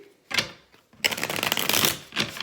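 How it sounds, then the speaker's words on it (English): Quick riffling bursts of tarot cards being shuffled, a short flurry followed by a longer rapid run, close and fairly loud with no talking. "I'm going to have to shuffle for each one."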